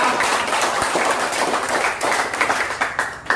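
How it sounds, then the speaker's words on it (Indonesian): Lively clapping rises from an audience at an independence-day school event, many hands beating together in a loud, dense patter with a few sharper claps near the end. "Wih, tepuk tangan"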